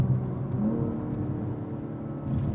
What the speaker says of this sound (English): Hear the fake burbles? Yep. Watch, I'll downshift.